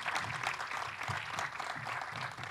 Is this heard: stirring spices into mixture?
no